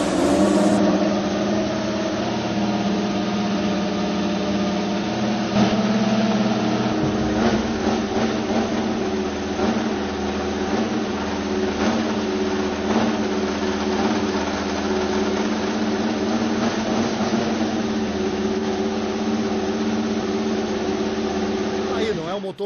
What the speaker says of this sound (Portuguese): Aí o ronco da Ferrari